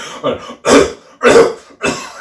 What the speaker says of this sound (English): You just start coughing at the baby.